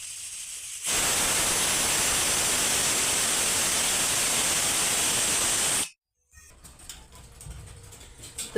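A pressure cooker boiling amla with water hisses in a steady, loud broadband rush for about five seconds, then cuts off abruptly, followed by quieter clattering and handling sounds.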